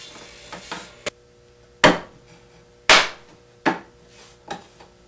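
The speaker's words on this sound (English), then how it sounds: "I'll go back and trim a tiny bit off until it fits perfectly in between the 2 tenons." A wooden piece is trimmed to fit between two tenons for an Arts and Crafts panel bed: about six sharp, close wooden knocks at irregular intervals, the loudest near the middle, with no talking.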